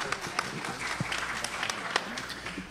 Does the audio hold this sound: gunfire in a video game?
no